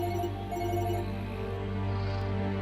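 A phone rings in a repeating electronic tone pattern, faint and steady over a low hum, with no talking.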